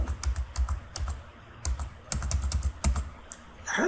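Java code being typed on a computer keyboard: quick bursts of close, crisp key clicks with short pauses between runs, no talking over them.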